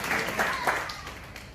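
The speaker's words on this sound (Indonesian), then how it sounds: "Tepuk tangan bagi Yesus itu" A church congregation claps briefly during a sermon, a short burst of scattered clapping with a voice talking over it.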